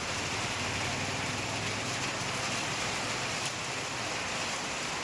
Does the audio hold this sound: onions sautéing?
no